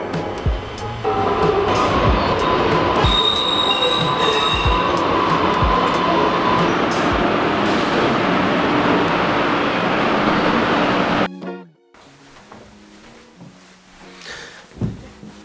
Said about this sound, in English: I just got off the train